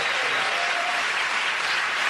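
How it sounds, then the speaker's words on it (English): Studio audience applause for the comedians on a TV panel comedy show, a loud, dense, continuous wall of clapping from start to finish. "again, that round of applause going to Russell"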